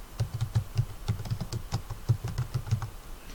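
Fingers type text on a computer keyboard in a fast, even run of close, crisp keystrokes for about three seconds, with no voices.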